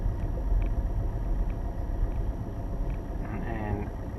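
A car creeps slowly in first gear along a driving test route in Currie, Edinburgh, giving a low, steady engine rumble with faint road noise throughout.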